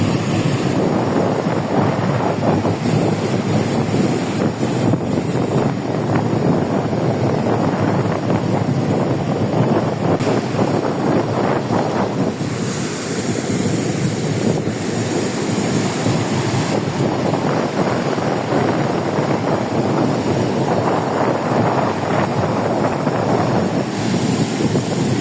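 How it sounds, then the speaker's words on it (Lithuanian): Small sea waves wash onto the shore at Jūrmala, Latvia, in a steady surf, partly masked by heavy wind buffeting the microphone, with no talk. "O, bangelės tokios."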